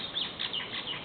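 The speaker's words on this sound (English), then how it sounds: "I can't believe you actually went to go look at the bird squawking" A pet bird squawks and chatters in bright, raspy bursts, loud and close, with no talking during the stretch.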